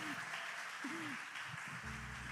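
Steady, dense clapping from a church congregation fills the whole stretch, with some voices and tones rising through it.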